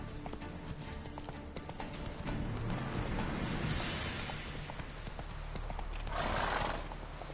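A horse in The Witcher 3: Hearts of Stone gallops with steady, rhythmic clip-clop hoofbeats close by, and a loud whinny breaks out near the end over the running hooves.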